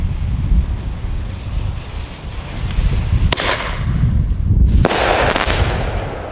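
Small firework bomb tubes of about 2.5 grams are fired outdoors on a windy day. A sharp bang is followed by a crackling tail, then a second loud report, all over steady wind rumble.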